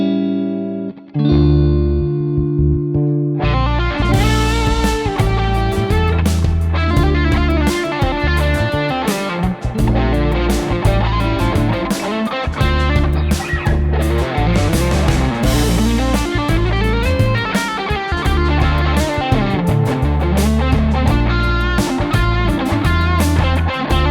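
A distorted electric guitar through a Fender Hot Rod Deluxe tube amp plays a full, loud riff with chords and lead lines, backed by a steady band track, after a brief quiet picked intro.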